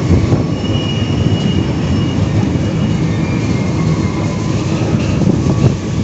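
Cikuray passenger train running on the line between Kiaracondong and Jatinegara, a steady loud rumble of wheels on rails with faint squeals, heard from inside the carriage throughout.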